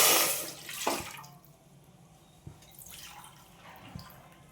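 Water poured into a pot for cooking semolina, a short splashing pour followed by a few soft drips and trickles, close and fairly quiet.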